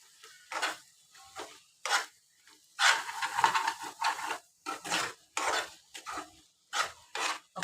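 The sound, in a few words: stirring egg curry with spices in a pan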